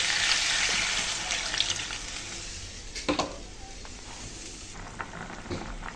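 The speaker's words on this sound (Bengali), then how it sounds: "দিয়ে দিচ্ছি জল" Water poured into a pan of frying bitter gourd and potato curry brings a loud sizzle that gradually settles into a softer bubbling hiss, with a few sharp spatters and clinks along the way.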